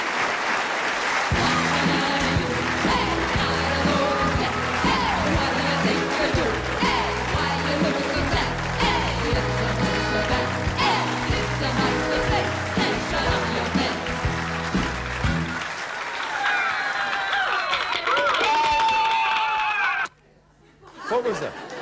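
Sustained clapping and cheering from recorded applause played on a television talk show, steady and loud, then fading into scattered chatter before a brief silence and a short burst at the end.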